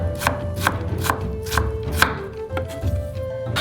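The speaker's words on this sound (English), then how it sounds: "we just chop it into thin cubes" A kitchen knife chops carrot into thin cubes on a cutting board, each crisp strike landing close and loud in a steady rhythm of about two chops per second, with no talking.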